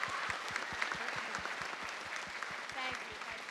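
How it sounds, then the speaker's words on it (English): Audience at a 5th and 6th grade school spring concert clapping steadily, a dense close patter of many hands with a few voices faintly underneath. "give them a big round of applause"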